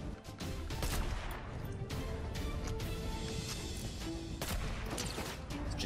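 Dense bursts of gunfire in the video game Fortnite, loud and continuous, with sharp shots layered over a busy game soundscape and no clear talk.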